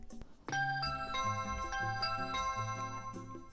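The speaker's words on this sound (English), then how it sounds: "Then you hear the doorbell ring." A bright multi-note chime rings out clearly, its tones layered and sustained over several seconds, close and fairly loud.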